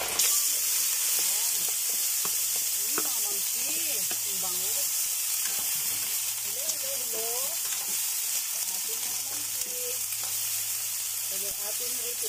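Golden fried garlic and onion sautéing in a pan for a crab dish, a steady close sizzle and hiss with faint stirring and a soft voice in the background.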